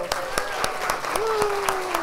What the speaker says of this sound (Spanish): Yo diría un aplauso para todos.